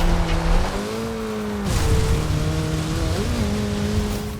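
A car in the Forza Horizon 2 racing game drives with a steady engine drone that shifts pitch through gear changes, and its tires squeal along with it. The sound is loud and continuous, with no talking.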